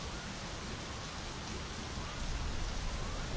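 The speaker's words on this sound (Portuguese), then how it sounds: "Tá mó frio e tá chovendo" Steady rain falls in a continuous, dense broadband hiss that holds even throughout, swelling slightly near the end, with no voices.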